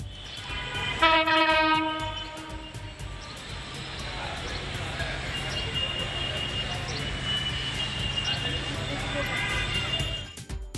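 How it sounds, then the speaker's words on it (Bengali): A train pulls into a platform at Khulna railway station, its loud horn blaring near the start and again in longer blasts, over a continuous rolling rumble of carriages, with a murmur of people in the background. "সেই ট্রেনটার সাউন্ড এবার আপনি শুনতে পাবেন।"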